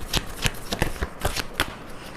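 Tarot cards shuffled by hand in quick, repeated riffles, a close series of crisp papery slaps about every quarter second.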